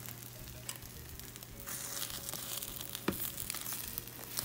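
An omelette cooks in a pan with a faint, continuous sizzle and soft crackles, with occasional light scraping sounds.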